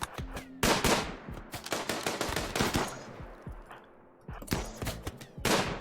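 Automatic gunfire rattles in a RimWorld battle, with dense, loud bursts of rapid shots, a brief lull near the middle, then fresh volleys toward the end.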